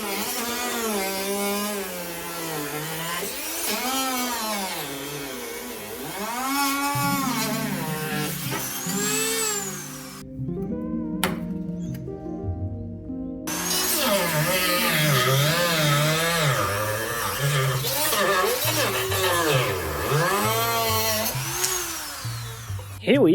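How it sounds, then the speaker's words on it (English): A Dremel rotary tool cuts through wood with a loud, close, sustained high whine. The pitch rises and falls as the bit bites, and the sound pauses briefly midway before resuming. "Something really cool about using a Dremel is that if you do it for long enough, the wood has a chance of catching on fire."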